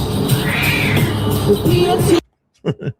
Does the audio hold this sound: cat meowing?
yes